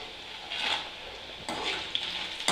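Dried red chillies frying in oil in a pan for garlic chutney give a steady close sizzle, swelling in short bursts as they are stirred, with no voices.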